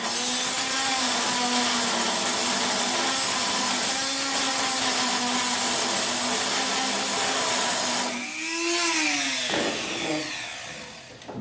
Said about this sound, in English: The bit's broken on the Dremel.